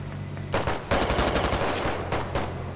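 Gunfire in the Squad video game comes as rapid automatic bursts, loud and close, each volley a run of sharp cracks, with a steady engine hum underneath at the start.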